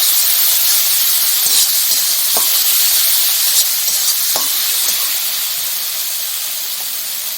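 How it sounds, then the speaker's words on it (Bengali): Masala with garlic and green chili paste and tomatoes frying for a fish curry, a loud, close, steady hiss of sizzling oil with a few soft knocks of stirring, easing slightly toward the end. "রসুন আর কাঁচা লঙ্কা বাটাটা দিয়ে ভালো করে মশলাটা কষে নেব।"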